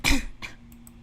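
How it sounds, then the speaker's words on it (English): A single sharp cough muffled behind a hand, followed by a softer second cough, close to the microphone over a faint steady hum, with no talking. "I'm trying not to be that loud, the coughing."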